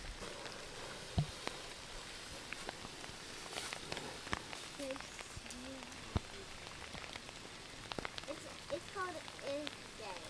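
Rain pattering on an outdoor campfire, soft steady drops with occasional crackles and sharper ticks, faint and close, with a few brief rustling sounds and no clear talk.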